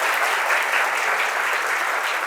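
A keynote crowd at GDG Ahmedabad DevFest 2023 claps along to a counted routine. The applause is sustained and even, a thick wash of many hands at close range, running unbroken throughout.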